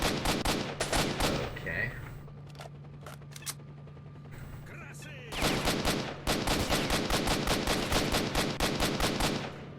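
Rapid bursts of gunfire ring out in the video game S.T.A.L.K.E.R. Shadow of Chernobyl, with sharp repeated shots and a quieter pause in the middle, and a brief word is spoken.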